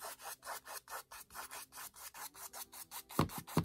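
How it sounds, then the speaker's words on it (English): Natural bristle paintbrush scrubbing on canvas, a close, dry rasping stroke repeated in a steady back-and-forth rhythm of about four strokes per second, with a few heavier scrapes at the end. "Now I'm gonna make a lot of noise with this brush because whenever I use natural bristles, it really makes a lot of noise."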